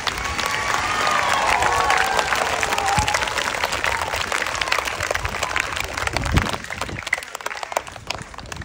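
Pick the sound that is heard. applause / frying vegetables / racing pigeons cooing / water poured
applause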